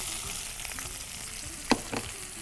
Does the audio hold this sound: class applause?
no